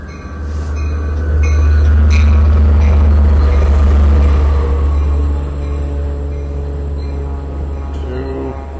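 A Long Island Rail Road train, led by a DM30 AC locomotive and pulling ten cars, arrives at Mastic-Shirley Station, a loud, close, steady rumble with a low engine drone and brief high wheel squeals as it slows.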